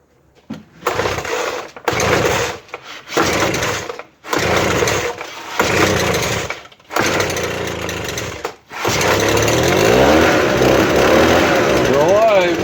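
An old two-stroke motor is pulled by hand in several short cranking bursts with brief pauses between them, then catches and runs in a steady buzzing idle, loud and close, with some talking mixed in.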